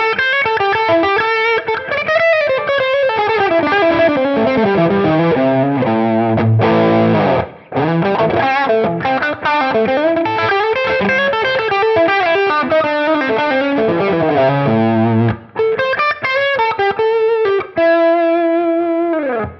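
An electric guitar played through a $27 Dumble-style overdrive pedal gives a loud, close, continuous stream of overdriven single notes and chords, broken by a couple of brief gaps.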